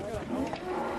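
A cow moos in a long, low, droning call while cattle are loaded onto a truck at a German dairy farm, close and steady for about a second.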